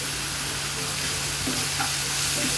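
Onions and curry leaves sizzle steadily in hot oil in a pan while being sautéed for a chapathi curry, a continuous close frying hiss with occasional stirring, no voices.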